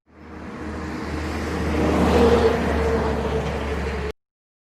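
A bus engine rumbles in from silence, building to a loud heavy drone midway and holding steady until it cuts off, with no talking.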